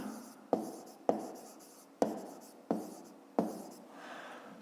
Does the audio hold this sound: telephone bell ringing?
no